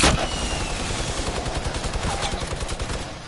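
Rapid, continuous automatic gunfire from a PS4 shooter game, a dense loud stream of close shots running unbroken for a few seconds.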